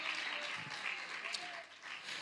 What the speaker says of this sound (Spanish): Alguien dele un aplauso a la gloria del Señor.